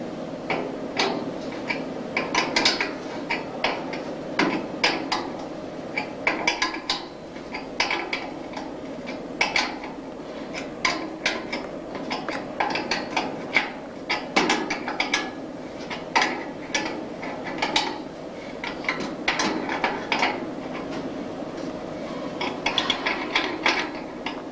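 A ratchet tightens bolts and washers on car suspension parts during a Robin Hood kit car build, with rapid bursts of clicking repeated throughout at moderate volume.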